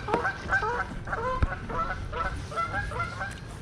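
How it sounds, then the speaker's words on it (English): Canada geese honk repeatedly in a noisy, overlapping flock chorus, fairly close, on the Leeds and Liverpool Canal, with a low rumble of background noise underneath. "Noisy geese."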